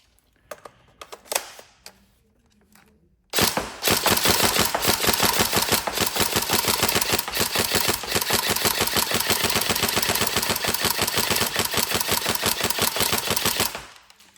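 A Tokyo Marui SCAR-L CQC Next Gen airsoft electric gun gives a few quiet clicks, then fires one long, loud, rapid full-auto burst of evenly spaced mechanical cycling lasting about ten seconds before stopping abruptly.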